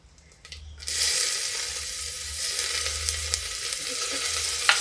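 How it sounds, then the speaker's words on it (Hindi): Onions hit a pan of cooking spices over a low flame, bursting into a loud, continuous sizzle after a quiet second of faint handling noise, with occasional crackles and a soft low hum beneath. "धीमी आंच में प्याज को पका लूँगी"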